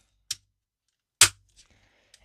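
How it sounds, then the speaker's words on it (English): Two sharp plastic snaps of Transformers Big Convoy Leader Class toy parts clicking into place, close and crisp, about a second apart, followed by faint small clicks of handling. "We could bring the butt cheeks down and snap these into place."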